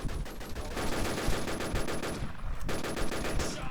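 Rapid, continuous bursts of video game gunfire rattle on loudly throughout, dense and relentless, like automatic weapons firing in an intense battle.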